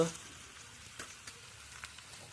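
Meat and potatoes fry in a pan over a home stove, a faint, steady sizzle with a few soft scraping taps from stirring.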